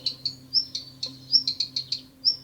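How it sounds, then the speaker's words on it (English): A bird makes a ticking call while on vacation near a pool: a run of short, sharp clicks in a loose irregular rhythm, fairly close, over a steady low hum in the background. "And the last one is just a ticking noise from a bird."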